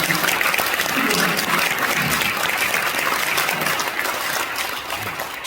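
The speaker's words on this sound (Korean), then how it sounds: "한 번 더 박수하시죠" A church congregation claps in sustained, dense applause for several seconds, loud and close, easing slightly toward the end.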